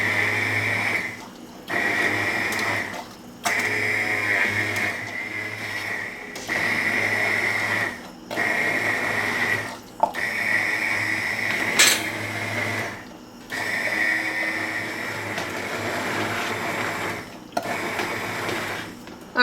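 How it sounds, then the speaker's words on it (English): An immersion blender whirs through potato soup in repeated bursts of several seconds each, separated by brief pauses, loud and close, with a steady motor hum and no voices. "We're going to be using the immersion blender to blend this soup smooth."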